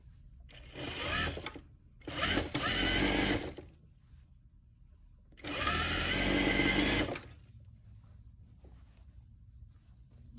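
A sewing machine runs a straight stitch down a dress bodice sleeve seam in three close, loud bursts of steady motor whir, separated by short pauses and followed by quiet handling.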